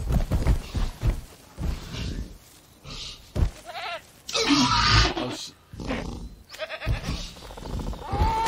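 Goat bleating in the dinosaur park game Jurassic World Evolution, several wavering bleats and animal cries close by, with someone talking over parts of it.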